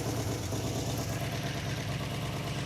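A Ford truck engine idles steadily while warming up after being started, a continuous low rumble close by with no talk.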